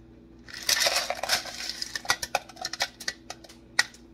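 Frozen mixed vegetables stirred into oxtail soup in a pot, with a close, dense rattle and clatter of hard frozen pieces that thins into scattered clicks and knocks against the pot.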